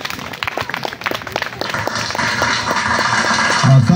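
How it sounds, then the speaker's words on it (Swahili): An audience claps for guests at a district sports tournament launch in Mbinga, with scattered taps at first that swell into steady, fairly loud applause toward the end. "Makofi."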